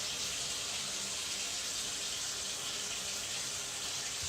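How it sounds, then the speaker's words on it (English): Tap water runs in a steady, close hiss while a bamboo washcloth is wetted under the faucet, a continuous even gush without pauses or talk. "We're also going to wet a towel and have it on standby."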